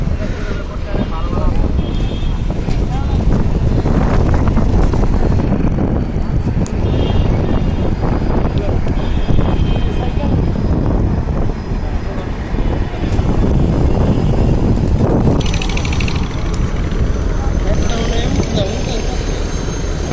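Strong wind roars at a riverside launch ghat on a pontoon landing, a loud, constant buffeting rumble that fills the whole stretch with no pauses.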